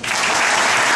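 An audience claps loudly and densely right after a poem recital, a short steady burst of close applause.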